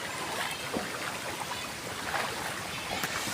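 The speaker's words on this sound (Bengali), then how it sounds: "এই সব জোয়ার পানি" Tidal floodwater at the site of an outdoor Islamic cultural event, a steady broadband wash of moving water with soft lapping, continuous and moderately loud throughout, with no talk.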